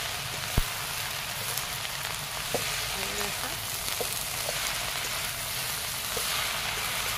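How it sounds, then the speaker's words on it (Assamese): Bottle gourd leaf tips frying in a pan, a dense rain-like sizzle held at an even level, with a few isolated knocks and faint clinks scattered through. "ধুনীয়াকৈ এনেকৈ ভাজি ল'ম মই"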